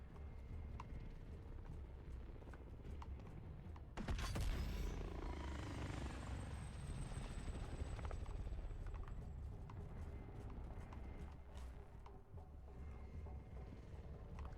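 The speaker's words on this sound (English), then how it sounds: "What are these helicopters?" Helicopters fly over a Warzone battle royale match, their rotor wash rising suddenly into a loud, steady thrum that persists under scattered game noises for the rest of the stretch.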